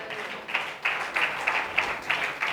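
A church congregation at a New Year blessing meeting claps hands in praise, a steady rhythmic beat of group clapping repeating about every third of a second, moderately loud over a soft room murmur.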